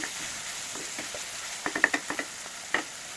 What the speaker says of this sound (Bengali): সব কিছুকে এখন ফোড়নের সাথে একটু ভেজে নিচ্ছি।